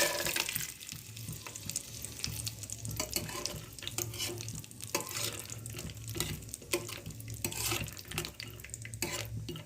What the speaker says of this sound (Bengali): সাদা তেল একটু গরম হলে তাতে বাদামগুলো ঢেলে দিলাম।